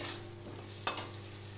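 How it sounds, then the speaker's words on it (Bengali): Ground cumin, mustard, green chili and ginger paste hits hot oil in a pan for a light Bengali fish curry, giving a quick soft sizzle and a couple of sharp crackles over a steady low hum. "জিরে, সর্ষে, কাঁচা লঙ্কা, আদা একসাথে পেস্ট করে রেখেছি, দিয়ে দিলাম।"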